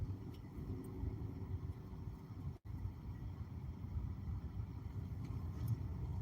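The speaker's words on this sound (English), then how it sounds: "Yeah, I'm in the car." Inside a moving car, a low, steady road and engine rumble hums quietly throughout, with one momentary dropout partway through and no voices.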